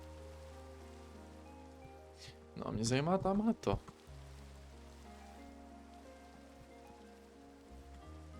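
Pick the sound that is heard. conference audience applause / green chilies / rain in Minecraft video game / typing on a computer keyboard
rain in Minecraft video game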